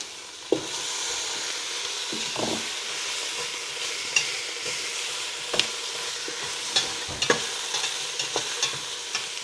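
Broccoli stir-fries in a pan for a Thai green curry, a continuous close sizzle broken by sharp clacks and scrapes of a utensil stirring.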